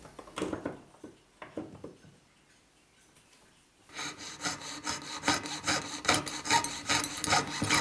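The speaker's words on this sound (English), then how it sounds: "Another template is cut and glued on as an aid to sawing and filing the upper section of the top." Wooden rasping and scraping strokes from sawing and filing a glued-on template while making a clock part, rapid and rhythmic, start partway through after a quieter stretch of lighter tool sounds, close and steady.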